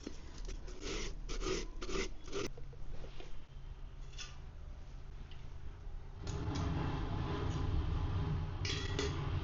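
Watermelon flesh being scraped out with a utensil, a series of rasping scrapes in short bursts followed by a softer, continuous rubbing texture, close and fairly quiet.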